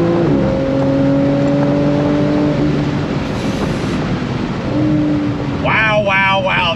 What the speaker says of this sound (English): Oh, throttle, here we go, launch control.